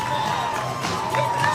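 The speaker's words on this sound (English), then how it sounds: "The crowd support has been amazing today, but Rupp was smiling at the crowd." Roadside crowd at the 2017 Chicago Marathon cheering and shouting as runners pass, a continuous loud mass of voices and whoops with a steady tone running through it.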